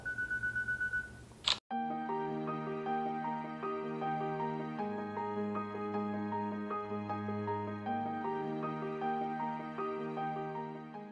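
A smartphone on a five-second self-timer gives a quick run of beeps, then a single crisp shutter click, followed by soft music playing on.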